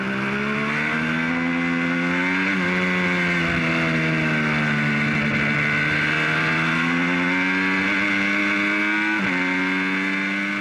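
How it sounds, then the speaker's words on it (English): An MV Agusta F3 800 motorcycle, heard onboard while riding, keeps up a loud, continuous engine howl whose pitch rises and falls with throttle changes and gear shifts. "the onboard noise while you're riding is so addictive"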